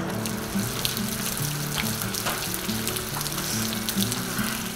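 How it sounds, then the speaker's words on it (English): Heavy rain pours down over a garden, making a steady, dense, hissing wash of sound at moderate loudness that continues unbroken, with no voices. "Now it's pouring."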